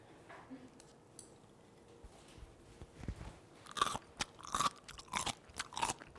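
Crisp, crunchy bites and chewing of cubed radish kkakdugi kimchi, loud and close, in a quick run of crunches after some quieter chewing and faint cutlery clinks.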